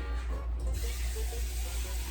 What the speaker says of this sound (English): you're gonna fill up that empty can twice with water